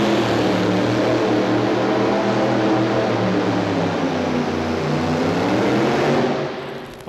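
A pulling tractor called the Fiddler, powered by aircraft engines, roars continuously down the track at the 1989 National Farm Machinery Show truck and tractor pull, a loud, dense, steady engine blast that drops away abruptly at the end.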